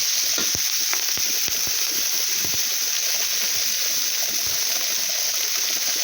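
Dried red chillies fry in oil in a pan, a steady loud sizzle with scattered crackles and pops throughout, close up and continuous.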